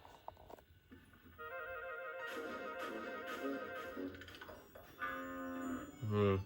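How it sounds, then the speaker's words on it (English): Cartoon cows moo from the Little Red Tractor children's series, with several drawn-out bovine calls in succession amid a quiet farmyard background and light music, fairly close and clear with no talking over them. "Yeah, the Stan's cows"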